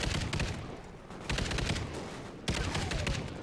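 Dense, sustained automatic gunfire from the video game Call of Duty Ghosts on Wii U, with loud continuous bursts of shots and heavy volleys repeating throughout.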